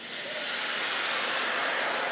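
Loud, steady sizzling and hissing as wine deglazes a hot pan for garlic and lemon chicken, continuous and close with no voices.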